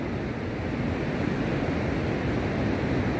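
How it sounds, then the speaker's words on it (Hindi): The Bhagirathi river in the Harshil valley rushes nearby, a steady, loud broadband roar of flowing water that continues without a break, with no voices over it. "भागीरथी नदी बहती है इधर पे।"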